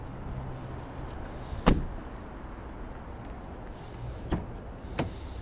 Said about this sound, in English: In the back of our Nissan Qashqai, we have our electric windows